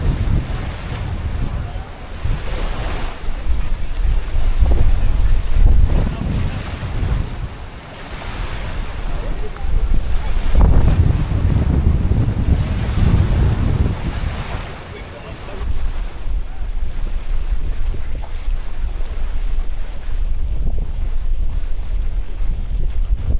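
Strong wind gusts over the sea at Coron, roaring and buffeting the microphone in loud, uneven surges. Waves wash steadily beneath the wind throughout.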